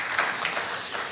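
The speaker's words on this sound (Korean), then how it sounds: "우리 삼여선교회 박수 한번 뜨겁게" A church congregation applauds its mission group during an afternoon worship service, a short burst of moderate, steady clapping heard from within the room, fairly soft overall.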